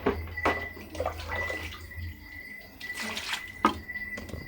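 Pork for humba is rinsed under running tap water in a home kitchen, with steady splashing and flowing water, a few clinks against a basin, and light background noise.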